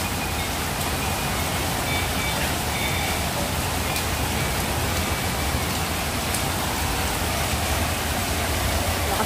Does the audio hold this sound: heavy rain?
yes